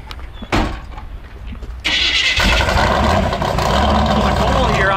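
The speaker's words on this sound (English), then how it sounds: "See if he'll do a burnout." A truck revving into a burnout, a sudden loud roar of engine and spinning tires that jumps in after a thump and holds steady and harsh to the end, with voices talking over it.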